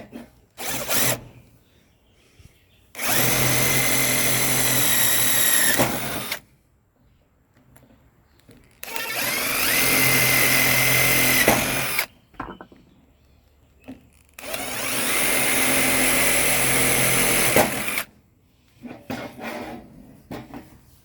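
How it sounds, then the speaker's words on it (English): A power drill bores holes through scrap wood in three long, loud, sustained bursts of whining motor and cutting, separated by quieter pauses with small clicks and handling noises. "go ahead and drill your holes out all the way through"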